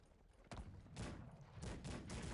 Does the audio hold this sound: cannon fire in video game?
yes